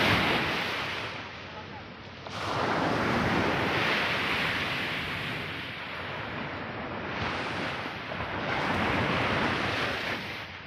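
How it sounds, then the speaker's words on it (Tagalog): Sea waves washing around a small fishing boat, a steady broadband roar that rises and falls in long surges under heavy wind buffeting the microphone, close and loud. "Medyo may alon-alon po"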